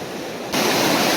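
A waterfall at Naran roars as a dense, steady wash of rushing water heard from close by, jumping abruptly louder halfway through.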